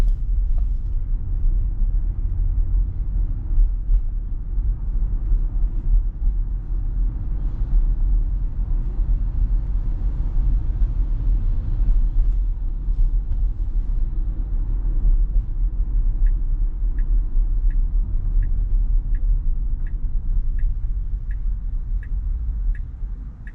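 A Tesla drives on FSD Beta V11.4.4 through downtown Montreal, giving a steady low road and engine rumble inside the cabin, with a regular faint ticking, like a turn signal, in the second half.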